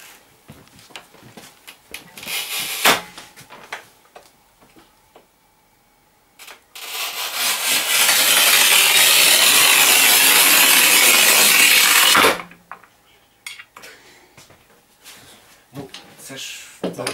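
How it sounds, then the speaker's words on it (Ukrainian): A Sigma manual tile cutter with a 19 mm bearing-mounted scoring wheel runs across large-format tile, giving a sustained gritty scraping rasp of about six seconds, close and loud, framed by clatter, handling knocks and people talking. "будемо ще різ зробимо моїм прокатним оригінальним плиткорізом Sigma з різцем також 19 мм на підшипнику"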